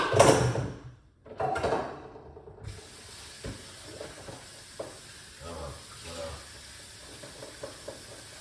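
Vegetables are rinsed under a running kitchen tap. A loud gush of water lasts about two seconds, then eases into a quieter steady rush with faint clinks, and a voice may be faintly present.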